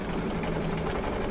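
Embroidery machine stitching a Boo applique wall hanging, a close steady mechanical whir with fast even needle pulsing and no pauses.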